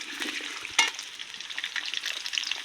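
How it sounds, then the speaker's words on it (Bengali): Potato pieces fry in hot oil with only turmeric powder, no salt, giving a quiet, continuous sizzle with one sharper crackle near the start. "আজকে আমি শুধুমাত্র হলুদ গুঁড়ো দিয়ে আলুটা ভেজে নেব"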